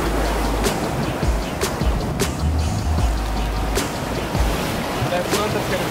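Ocean surf at sunset, steady wave wash and wind buffeting the microphone, with a few sharp splashes bursting out at intervals over a continuous low roar.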